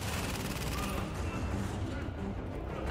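An automated turret fires in the video game The Division, a dense, steady rattle of gunfire filling the whole stretch amid a noisy battle.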